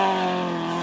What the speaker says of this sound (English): Just listen to this car roar.